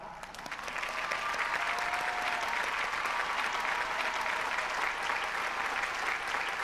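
An audience at an Amway diamond-level business award ceremony in Thailand bursts into loud, sustained applause that builds within the first second and holds steady as a dense wash of clapping.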